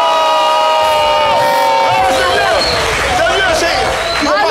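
A live audience at a show erupts in loud cheering and shouting, a dense, sustained crowd roar with voices rising over a musical tone fading beneath it.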